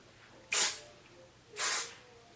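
Hairspray hisses onto hair being teased into a big, wild Halloween style: two short, close bursts about a second apart, each a bright airy spray that cuts off cleanly.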